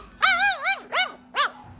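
Three loud, close, drawn-out dog vocalizations in a village setting, wavering howl-like yelps with pitch sliding up and down, the first long and the next two short, separated by brief pauses.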